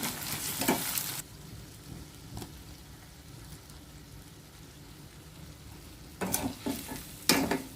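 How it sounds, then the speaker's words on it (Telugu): Curry leaves hit hot oil in a frying pan while cooking spleen fry, giving a loud crackling sizzle at the start, then a quieter steady frying hiss, then renewed bursts of crackling and stirring. "దీనిలో చిన్న చిన్న ముక్కలుగా కట్ చేసుకొని నేను కరివేపాకు వేస్తున్నానండి"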